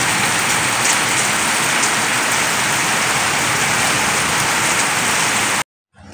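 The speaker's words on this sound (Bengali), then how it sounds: "সুন্দর বৃষ্টি, অনেক দিন পরে বৃষ্টিটা হচ্ছে, খুব ভালো লাগছে।" Heavy rain pours down in a dense, loud, steady roar of drops striking surfaces, continuing without a break before it cuts off abruptly near the end.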